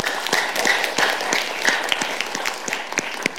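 An audience at a parliamentary-style debate on the causes of the India-Pakistan war applauds a speaker, steady dense clapping from a crowd throughout.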